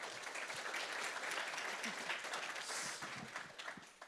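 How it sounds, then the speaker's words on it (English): Audience applause after a marketing presentation at a live business event, a dense, even wash of clapping lasting several seconds and tapering off near the end. "But everyone give Katie a round of applause for her presentation."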